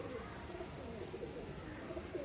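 Karna high-flyer pigeons make soft, repeated cooing and murmuring calls from a loft, with a steady low rumble of background noise and no clear speech.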